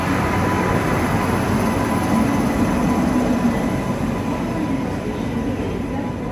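A train pulling into a railway station early in the morning on the Kota to Jaipur route, heard as a loud, continuous low rumble and roar that stays steady throughout, with no talking.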